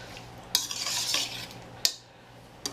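A utensil scraping and clinking against a pan while onions and green beans are stirred together, a few sharp knocks over a soft continuous stir, close and alone.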